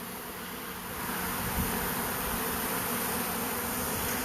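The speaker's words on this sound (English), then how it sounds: "There's quite a bit of bees around the back side of it and up top here." Swarming honeybees gathering around and entering a custom hive, a dense continuous hum that thickens after the first second and holds steady and fairly close throughout.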